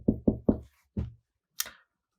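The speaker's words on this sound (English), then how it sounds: "And so they knocked at the first inn." Knocking on a door, three quick loud raps in a row, then a fourth after a pause and a lighter final tap, each close and dry against silence.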